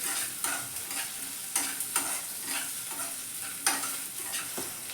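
Chopped ginger sizzles and fries in a pan for baby corn Manchurian on medium flame, with a steady hiss broken by several sharp scraping stirs of a spoon against the pan.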